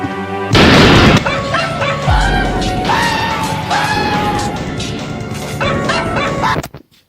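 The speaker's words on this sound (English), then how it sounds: "dogs are terrifying" Dogs bark in a video game as the player explores a mansion corridor, a sudden loud crash followed by repeated close, aggressive barks and yelps with another heavy thud mid-way, ending abruptly.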